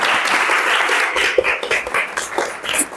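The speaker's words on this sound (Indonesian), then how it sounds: "Ya, tepuk tangan untuk kelompok 2." Applause in a university teaching session for a student group, a fairly loud, uneven stretch of clapping with scattered sharper claps and slight room noise.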